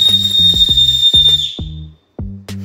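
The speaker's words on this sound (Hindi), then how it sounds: "मैं बजा रहा हूँ सीटी स्ट्रीमलैब्स के लिए" A loud 3D-printed whistle gives a shrill, piercing steady tone for about a second and a half, then cuts off, leaving scattered short tonal bursts.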